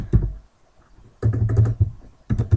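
Computer keyboard typing, close and distinct: a single keystroke, a pause, then a quick run of clattering keys and a final short burst.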